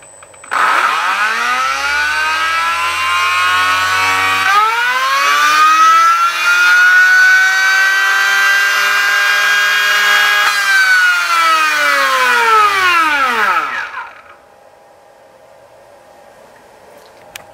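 An ESC-driven RC car motor spins on a Minipro dyno through a throttle test sequence, giving a loud, steady electric whine that climbs in pitch, holds for about ten seconds, then drops away sharply as it brakes, leaving quiet hum.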